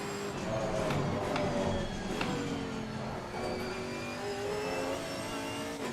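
Race car engine revving in Assetto Corsa Competizione during a mixed-class race at Donington Park, with the engine note rising and falling through gear changes, steady and fairly loud throughout.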